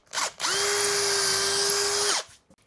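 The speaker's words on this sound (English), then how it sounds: "I'm going to drill this manually." A power drill bores through metal, kicking out swarf: a short burst, then a steady high whine that holds for under two seconds before winding down, loud and close, with no talking.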